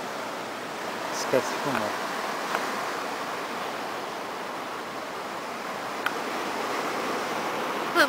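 Waves break on rocks at a beach, a constant broadband wash of surf with no clear individual crashes. A person talks briefly near the start.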